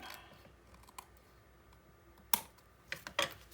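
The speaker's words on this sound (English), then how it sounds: "I cut this one just a little long. So I'm going to trim it now that it's down." Paper for a Christmas mini album page gets trimmed with a few quiet, sharp snips and clicks near the end, after a stretch of faint handling noise.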